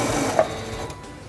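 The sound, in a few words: sewing machine sewing a seam to the fabric's end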